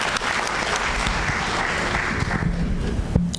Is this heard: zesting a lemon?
no